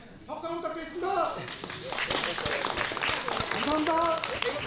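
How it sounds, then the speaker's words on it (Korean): Audience applause at a residents' meeting in Goyang's Ilsan Dong-gu office about the K-Culture Valley project: a burst of scattered hand claps builds and carries on, with voices speaking and calling over it throughout. "박수 한번 부탁드리겠습니다."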